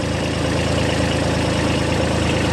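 A tractor engine runs at a steady idle on a farm where it powers a pump for spraying soybean and pomegranate crops. The mid-low rumble is close and continuous, with no voices over it.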